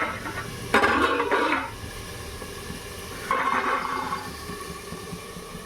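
A metal lid clatters twice onto a kadai of thick koi fish curry, each a short rattling clank, moderately close and with no talking.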